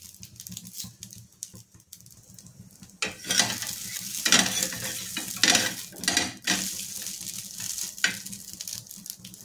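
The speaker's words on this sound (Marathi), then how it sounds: "असं तव्यावरती टाकून आपल्याला तर खरपूस भाजून घ्यायचे दोन्ही बाजूने" Sabudana thalipeeth roasts on a hot griddle with a soft, steady sizzle, while a utensil scrapes and clinks against the pan in several close, louder bursts.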